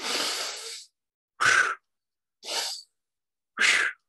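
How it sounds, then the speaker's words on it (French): Four breaths in a dynamic inhalation exercise: a long opening exhale, then three short, forceful, sharp inhalations evenly spaced apart, airy and close. "ça, c'est plutôt une inspiration dynamique"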